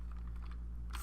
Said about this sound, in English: I'll just type it in down here